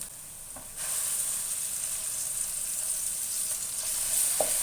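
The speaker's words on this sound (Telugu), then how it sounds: "కలిపి గ్రైండ్ చేసిన పేస్ట్ని వేసుకుంటున్నాను" Ground onion paste hits hot pan for a capsicum, potato and meal maker curry, raising a steady broad sizzle that jumps up after a quieter start and holds, with a faint clink near the end.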